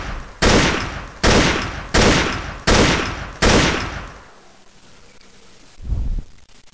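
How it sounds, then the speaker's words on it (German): Nail gun fired repeatedly in the Fallout video game: five loud booming shots in a steady rhythm, each decaying with a ringing tail, then a pause and one softer thump. "Senator Ancius feuerte sein Nagelgewehr ab, welches bei jedem Schuss dröhnenden Lärm verursachte."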